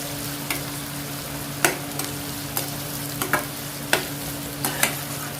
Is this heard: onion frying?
yes